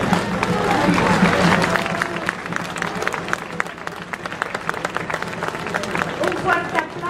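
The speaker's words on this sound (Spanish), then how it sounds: "Yo les pido que les den un fuerte aplauso a las autoridades este día." At a World Down Syndrome Day celebration in Mexico City, a crowd gives loud applause for the authorities, sustained clapping mixed with crowd hubbub and voices.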